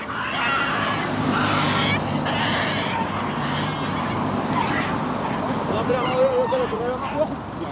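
Stray dogs being captured in a city street yelp, whimper and bark in short, uneven bursts. A vehicle engine rumbles nearby, and people talk over the commotion.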